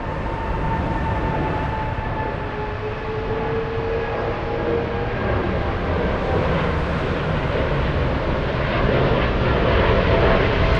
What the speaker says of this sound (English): that's a Dreamliner. 787 Dreamliner.